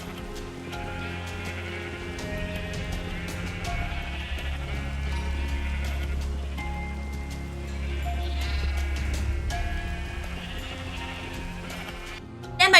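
Sheep in the video game Minecraft bleat repeatedly on a farm, overlapping game calls over a steady low ambient hum, loud and close throughout.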